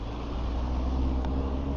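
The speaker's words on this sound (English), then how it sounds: "Is that a car behind me?" A car on a road travels close behind, its steady low engine and tyre rumble droning continuously and fairly loud under wind noise, with no talk.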